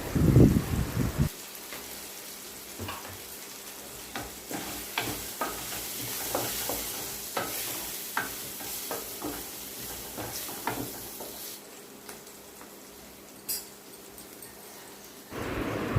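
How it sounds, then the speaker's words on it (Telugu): A curry sizzles in a pan as it is stirred just after turmeric goes in, with a loud opening clatter and then about fifteen seconds of steady frying hiss broken by frequent scraping clicks of the spoon. No one speaks. "ఇప్పుడు పసుపు వేసుకొని అంతా కలుపుకోవాలి"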